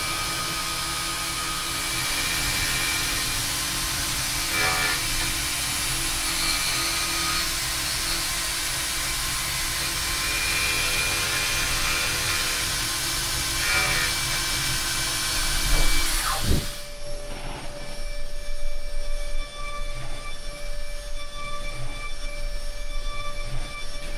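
Exeron CNC milling machine cutting at a very high feed rate, a loud steady machining whine with tonal hums that continues for about sixteen seconds, then drops into a quieter, lighter running sound.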